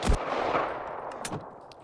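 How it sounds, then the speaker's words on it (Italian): Rapid gunfire from a gun in Minecraft, fired without aiming, crackles in quick sharp bursts up close, with a dense volley at the start and a few scattered shots after. "Io sparo senza mirare, basta."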